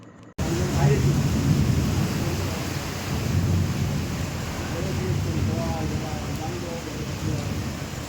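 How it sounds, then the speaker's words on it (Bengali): Rain falls steadily outside in Kolkata, a dense, constant wash of noise that starts abruptly and continues without break, heard from a sheltered spot. "কারণ বাইরে বৃষ্টি হচ্ছে তাই"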